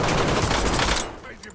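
Rapid gunfire rattles loudly in Call of Duty: Warzone, a dense burst of shots that cuts off abruptly after about a second, leaving quieter game ambience.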